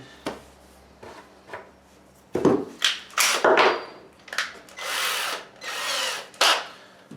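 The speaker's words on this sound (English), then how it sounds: "And screw it with the same screws. Obviously drill the pilot hole first." A power drill whirs in several short bursts, driving screws into wood panels while boxing in pipes, with clunks and handling noises between each run of the motor.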